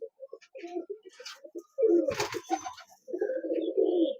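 A moulting Pakistani high-flying teddy pigeon coos close by in repeated low throaty bursts, with a short louder phrase and a rustle partway through.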